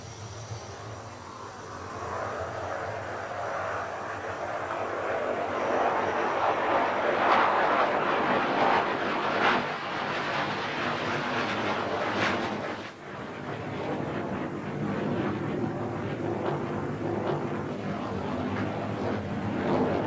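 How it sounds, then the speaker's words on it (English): Jet noise from Mikoyan MiG-29 fighters of an aerobatic team flying in formation, a steady loud roar that swells and holds throughout, with a brief dip before resuming. "The Swifts fly a mixture of single and two-seater MiGs, generally in a group of 6, with a 7th aircraft flying solo."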